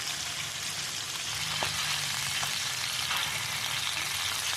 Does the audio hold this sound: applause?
no